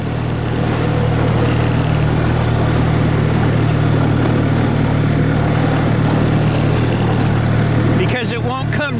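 A vehicle engine runs at a steady, loud, raised speed without throttle input, droning close up, and a voice breaks in near the end.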